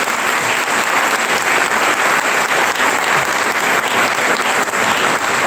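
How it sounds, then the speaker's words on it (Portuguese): A church congregation claps during a festive Mass in honour of Saint John Bosco, a loud, sustained wash of many hands echoing through the space, with little talking. "acolhemos a todos esses animadores com aquela salva de palmas"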